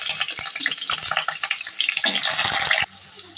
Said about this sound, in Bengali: ডুমু করে কেটে রাখা আলুগুলো কিন্তু ভেজে নেব।